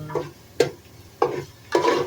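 A utensil scrapes and stirs ground chicken and garlic in a pot in four short bursts, with a faint sizzle between strokes.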